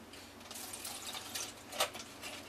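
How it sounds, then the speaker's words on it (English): Liquid sauce poured into a dish of low-carb ribs gives a soft, steady trickling splash, faint and close, with a brief louder splatter near the end. "pour that liquid right in there"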